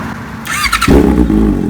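A motorcycle fitted with an SC Project aftermarket exhaust gives a sharp high blip and then settles into a loud, deep, rumbling rev, close up with no voices.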